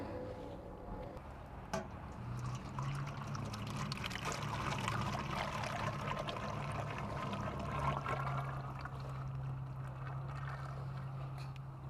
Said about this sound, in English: I'm going to take the water out